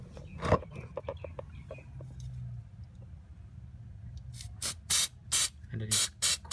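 Aerosol cleaner hisses out in four or five loud, short bursts onto a car's mass air flow sensor. A few faint clicks and handling noises come before the spraying.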